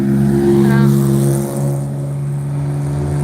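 A Porsche 911 races at a vintage car meet in Northam. Its engine hums with a steady, throaty drone that swells briefly and then eases slightly as the car carries on past.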